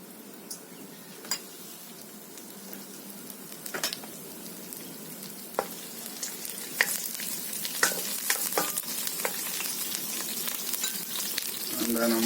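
Chilies and curry leaves sizzle in hot oil in a pan for a pasta dish, giving a loud continuous frying hiss broken by occasional clinks and stirring sounds.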